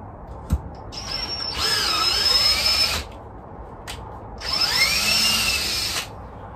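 Power drill with a high-speed bit boring a 4.5 mm hole in a widebeam boat hull, two loud sustained whining bursts of about one and a half seconds each, separated by short pauses, close by with no talk.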